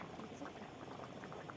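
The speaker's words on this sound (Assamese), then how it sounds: "পানী দিয়াৰ পিছত উতলি আছে" Assamese fish curry with khar bubbling in a pot after water has been added, a soft continuous simmering burble heard close and quiet.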